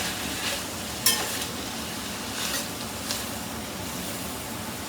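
Cabbage and meatball soup with broth, bacon grease and beef juices stirred in a pot, giving a steady soft sizzling hiss with a faint scraping clink near the start.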